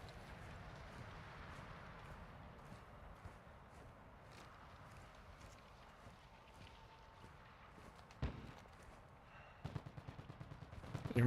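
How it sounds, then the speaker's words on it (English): A distant firefight in a video game sounds as scattered, muffled gunshots over a steady rustling ambient bed, with sharper cracks and a denser burst of shots near the end and no voices. "I'm hearing gunshots that way. So there's a firefight going on that way."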